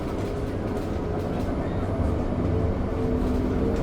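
A Canberra light rail tram pulls away from the Mapleton Avenue stop, a steady close rumble of the moving car with low rolling rail noise, continuous and fairly loud, with a recorded announcement heard over it.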